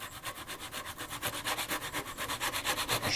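Saw blade shaving wood on a casement window sash during glazing, a steady run of quick rhythmic rasping strokes, close and fairly loud with no talk.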